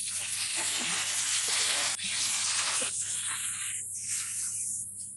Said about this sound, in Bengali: দুধটা ফুটে গেছে।